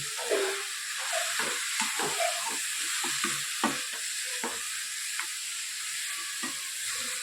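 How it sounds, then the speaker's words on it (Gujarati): Grated bottle gourd roasting in ghee, a soft continuous sizzle under frequent stirring clicks and scrapes, close and moderately quiet, no talk. "એને ઘીમાં આપણે પહેલાં શેકી લઈએ"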